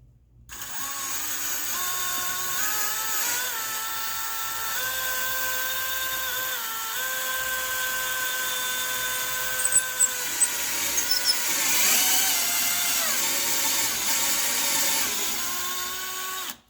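A power drill drives a bolt through a vehicle roof while a Starlink mount is being installed, giving a loud, continuous whining drone that shifts pitch as the motor loads and squeals, with no talking.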